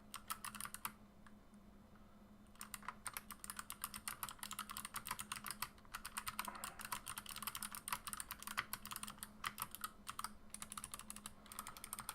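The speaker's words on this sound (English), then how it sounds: "So we'll just do a little typing test." Steady, fast typing clatters on a KBD75 keyboard fitted with Box Pale Blue clicky switches, giving crisp, dense clicks with a slight rattle, heard alone and close up with no talking.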